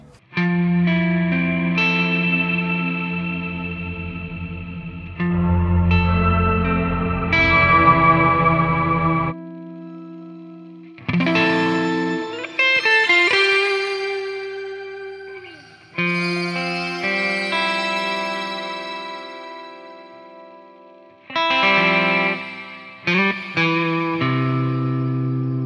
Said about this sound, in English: And here's another example, this time with a reverb.